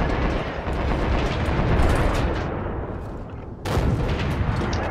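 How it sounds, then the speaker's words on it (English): Tank cannon fire in World of Tanks: a continuous loud roaring barrage of booming gunfire, with a fresh sharp blast near the end cutting in over the rumble. "Aim at an enemy vehicle and fire."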